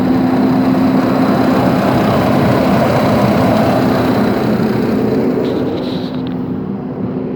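A Nissan Frontier's radiator fan roars loudly as a constant, dense whoosh of air with a low hum beneath, close by, easing off slightly near the end.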